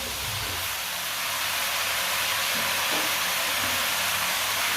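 Half a kilo of washed, cut potatoes hit a hot pan, setting off a loud, continuous hissing sizzle that swells slightly and holds steady, with faint clatter underneath and no talk.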